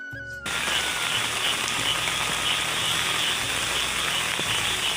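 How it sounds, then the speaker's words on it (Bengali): Heavy monsoon downpour pours down steadily over flooded fields, a loud, dense hiss that starts suddenly after a brief quiet moment and holds without a break. "চারদিকে বৃষ্টি হচ্ছে বন্ধুরা"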